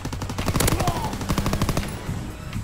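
Rapid bursts of automatic gunfire in the Call of Duty: WWII video game, a steady rattling stream of shots that pauses briefly before another volley, fairly close and loud.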